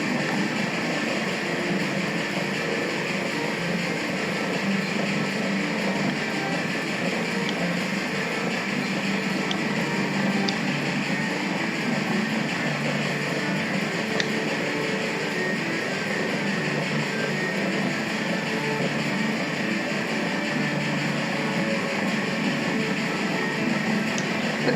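A train in Railway Empire 2 rolls over a small player-built bridge, giving a steady, continuous rumble with a faint whine and occasional light clicks, even in level from start to finish.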